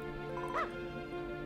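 A dog barks once in the Switch video game Dragon Quest Builders 2, a short yip heard over steady game music and ambient background.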